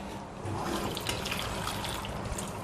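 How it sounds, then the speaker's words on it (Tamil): Water runs steadily into a pot of vegetables for sambar, a continuous splashing pour that starts softly and then holds at an even level. "கொஞ்சம் தண்ணி ஊற்றி வேக வச்சிடலாம்."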